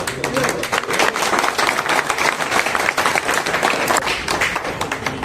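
Crowd clapping at an outdoor rally for rickshaw drivers' demands, a dense, irregular patter of many hands close by, continuing steadily for several seconds while voices mingle underneath.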